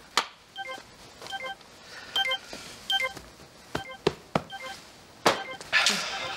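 A mobile phone beeps in a string of short, tonal keypad-style bleeps arriving in small clusters, interspersed with soft thumps and clicks in a quiet indoor scene.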